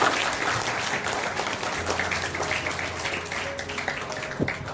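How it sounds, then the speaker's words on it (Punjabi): An audience at an NSS camp gathering gives a loud, sustained round of applause, with dense continuous clapping throughout and a faint murmur underneath. "ਸੋ ਇੱਕ ਵਾਰੀ ਸਾਰੀ ਮੈਨੇਜਮੈਂਟ ਲਈ ਤੇ ਚੱਠਾ ਸਾਹਿਬ ਦੀ ਜ਼ੋਰਦਾਰ ਤਾੜੀਆਂ ਲਓ।"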